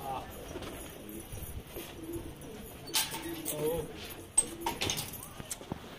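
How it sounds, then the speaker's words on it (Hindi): Pigeons newly released from a coop coo softly and intermittently, with wing flutters and small knocks nearby, while a voice talks faintly in the background. "ये देखो जी, ये कबूतर खोल दिया था हमने"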